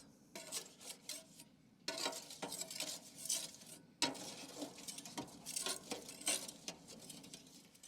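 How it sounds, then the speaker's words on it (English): A spatula scraping and spreading oil across the hot griddle of a Napoleon Rogue XT grill, rhythmic rasping metal strokes close by in repeated bursts, with no talk. "we're going to use our spatula just to spread it around"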